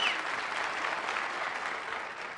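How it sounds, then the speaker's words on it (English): Studio audience on a 1977 late-night television talk show breaks into steady, dense applause, a continuous wash of clapping that holds even and fairly loud throughout before easing slightly at the end. "You're applauding yourselves."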